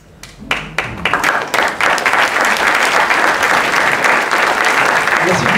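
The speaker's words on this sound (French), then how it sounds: "Merci de vos applaudissements." Audience applause at the opening evening of a festival, scattered claps building within a second into loud, sustained clapping from a full crowd.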